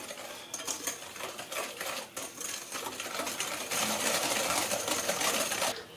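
Cocoa cookie batter for ghriba, made with one egg and spoonfuls of bitter cocoa, is stirred in a bowl, giving a continuous busy clatter of rapid scraping and clinking strokes up close, with no talking.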